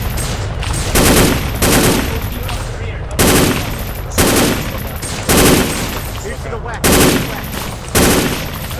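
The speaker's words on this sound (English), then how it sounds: "Do not cross the machine gun." Machine gun firing in a jungle combat setting, loud bursts of rapid automatic fire repeating about every second, separated by short gaps of noisy background and shouting voices.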